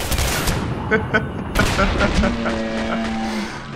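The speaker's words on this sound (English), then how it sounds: "the bullets explode." Exploding rounds from the Seeker gun in the Singularity shooter, a loud close cluster of blasts and booms with mechanical whines, overlapped by a voice.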